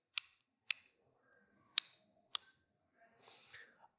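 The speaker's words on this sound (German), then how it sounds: "Ich mache eine leisere Klick für euch," Sharp tongue clicks made for human echolocation, four crisp isolated snaps spaced irregularly in a quiet room, followed by faint rustling.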